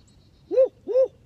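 Two deep, round owl hoots sound close together after a short quiet, with a third hoot just beginning.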